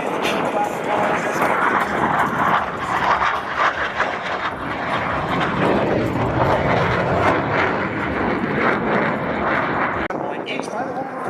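Loud, continuous roar of a military jet flying a hesitation roll at the SUN 'n FUN airshow, a steady broadband engine rush holding for the whole stretch, with an announcer's voice partly under it.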